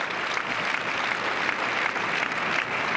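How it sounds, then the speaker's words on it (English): Muted, steady applause from a tennis crowd at the 1998 year-ending championships, a dense continuous patter of clapping lasting the full few seconds with no voices over it. "The only real muted sort of applause from this crowd."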